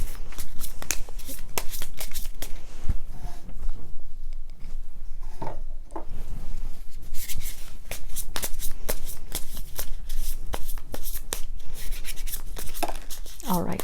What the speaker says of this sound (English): I'm going to be doing the shuffling again